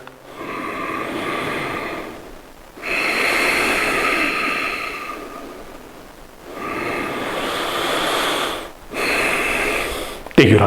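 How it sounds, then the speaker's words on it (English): Deep, audible breathing during a yoga class: slow, loud inhales and exhales through the nose, close up, in three long cycles separated by brief pauses. "Listen to my breath."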